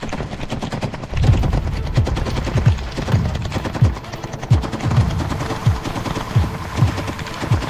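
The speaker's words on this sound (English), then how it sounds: "Ukrainian elite units and mercenaries subjected the Russian positions to a barrage of fire." Rapid bursts of gunfire in combat between Ukrainian units and Russian positions, a loud, sustained barrage of repeated shots that runs through the whole clip with no voices.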